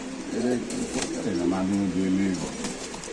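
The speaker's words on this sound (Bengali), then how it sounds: "ভাই এখানে আছে কিছু কবুতর" Giribaz pigeons coo nearby in soft, repeated throaty calls, with voices and other background noise around them.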